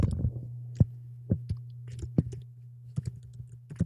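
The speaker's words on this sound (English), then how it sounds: "let's type in something that would be relevant to our audience" Keys clatter on a computer keyboard in a run of separate, irregular taps over a low steady hum, close and fairly quiet with no talk.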